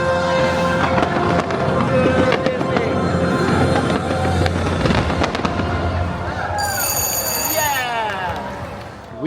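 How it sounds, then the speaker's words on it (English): Fireworks and drone show at Universal Studios Orlando, with dense crackling bursts and pops filling the air over a loud, continuous crowd murmur, a bright whistling tone rising near the end. "We just got done seeing Sensational, which is the fireworks and drone show here at Universal."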